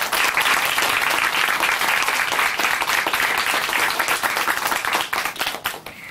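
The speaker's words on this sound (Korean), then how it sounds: "우리 박수로 함께 응원해드리겠습니다." A church congregation applauds after a Korean Christian testimony program, with sustained, loud, even clapping from a crowd throughout before it thins slightly at the end.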